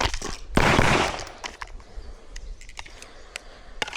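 Gunshots at an outdoor shooting range: a loud, close blast with a long ringing tail, then a few sharper cracks scattered after it, all without talk.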